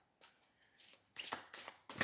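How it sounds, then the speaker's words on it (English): Brief riffling and clacking of circular shamanic disc tarot cards being shuffled, a few quick close bursts of card noise in a quiet room. "They're quite hard to shuffle."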